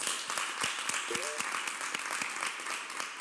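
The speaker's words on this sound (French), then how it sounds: "Oui, vous pouvez applaudir, c'est le fair play" A television game-show studio audience claps in a lively burst with distinct individual hand claps, while a voice talks over it.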